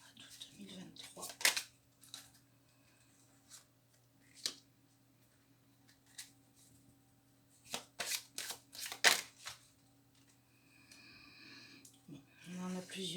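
Tarot cards being shuffled and handled for a Capricorn reading, giving short papery riffles and flicks in scattered bursts over a quiet room hum.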